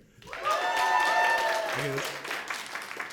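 An audience at a literary reading event cheers and applauds, with clapping and whooping voices swelling quickly and holding for a few seconds before tapering off.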